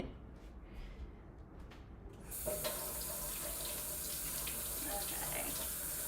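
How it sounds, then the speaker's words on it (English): Running tap water rinses a paint brush in a sink, a steady broadband rush that starts partway through after a quieter stretch with faint background sounds, then continues evenly to the end. "Brush washed."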